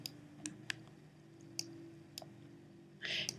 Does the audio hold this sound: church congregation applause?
no